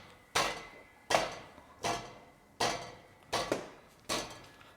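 A cracked, broken muffler on a drift car rattles in six sharp metallic knocks, each clanging hit ringing briefly before fading, spaced roughly evenly and heard up close with no talking.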